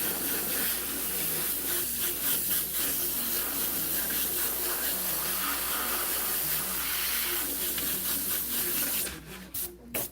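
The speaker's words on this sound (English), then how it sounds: "Generally, just get a cheap air compressor." Paint spraying from a cheap air compressor setup, a steady close hiss of rushing air with faint rubbing texture, ending in a few sharp chopped bursts, no talk.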